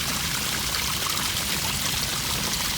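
Water from a drainage pipe laid under a budget-built road flows out in a steady, fairly loud rushing pour, close by and continuous with no talk over it.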